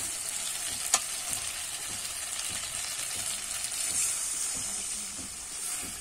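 Prawns and potatoes sizzle and hiss in a hot frying pan for a prawn-and-potato curry, with soft scraping stirs and a sharp clink near the start; no one speaks.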